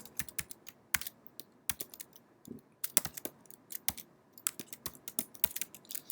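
Computer keyboard keys are pressed in irregular bursts of sharp, close clicks and taps, with brief pauses between keystrokes.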